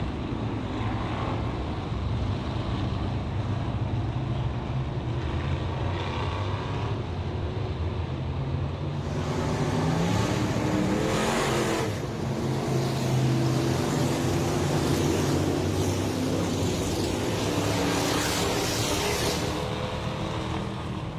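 Factory stock race cars at Deep South Speedway rumble around toward turn 4, a loud, steady, broadband engine roar that swells and shifts as the cars pass, with no talk over it.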